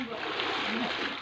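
Someone bathing in a well makes continuous splashing and sloshing water, a dense close-up rush that stays steady for about a second.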